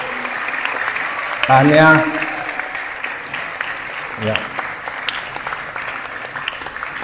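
An audience at a World Quran Hour gathering at Masjid Jamek Annur in Rembau claps in a short burst of applause, with someone speaking over a PA before and after.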